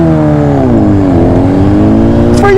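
A Honda Rebel 1100 DCT motorcycle engine idles loud and close, then rises and falls through a rev, with a steady throaty rumble throughout and a brief higher rasp near the end.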